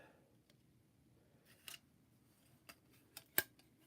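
Scissors snipping material during an abstract acrylic painting session, a few faint, sparse cuts with a sharper snip near the end over quiet room noise.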